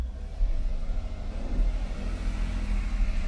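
Toyota Supra Mk4 converted from automatic to a six-speed manual, pulling away in first gear with its rear wheels spinning: a deep, steady engine rumble and road roar heard from inside the car, loud and continuous.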